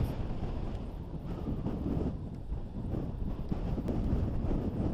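Strong coastal wind buffets the microphone on a beach at Marion Bay on the Yorke Peninsula, a constant loud low roar with gusty surges and no voices.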